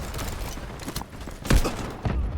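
Gunfire in the shooter game Delta Force, a dense stretch of rapid overlapping shots with a sharper loud report near the middle, close and punchy.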